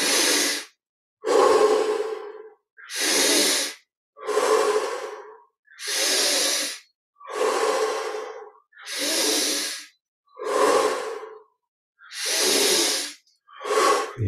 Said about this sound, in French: Inspire par le nez, expire par la bouche.